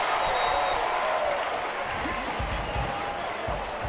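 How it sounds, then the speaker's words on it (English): A college football stadium crowd at an ODU versus WKU game roars in a dense, sustained wash of cheering and clapping, with a commentator's voice faintly under it. "But this ODU crowd is relentless tonight."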